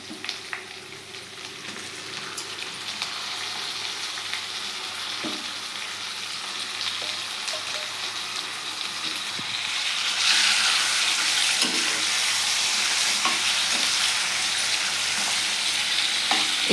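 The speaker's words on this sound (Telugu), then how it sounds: "ఇది వేయించాక ఇప్పుడు లివర్ వేసుకుందాం" Chicken liver frying in a pan for curry, a steady close sizzle that grows louder and brighter midway, with occasional soft scrapes and taps of stirring and no voices.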